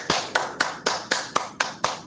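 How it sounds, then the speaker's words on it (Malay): About nine sharp claps in a steady rhythm, close by and evenly spaced, at a Malaysian school Teachers' Day and retirement ceremony. "dipersilakan Encik Idris, berikan tepukan."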